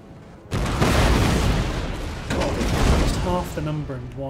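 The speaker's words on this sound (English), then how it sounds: "Shrapnel shot that regiment of horse." Artillery firing shrapnel shot at a cavalry regiment in Empire Total War, a sudden loud boom followed by a rumbling volley and a second burst, with someone talking over the end.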